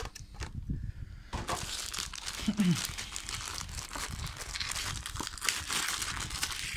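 Packaging crinkling and tearing as the box for a PM Model IAI Dagger kit is opened, with continuous close rustling of plastic and paper and a few sharper crackles throughout.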